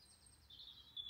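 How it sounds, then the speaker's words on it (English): Blackbird singing on Steephill Down above Ventnor, Isle of Wight: a faint, distant phrase of fluting notes over a quiet outdoor background, no voices. "Blackbird."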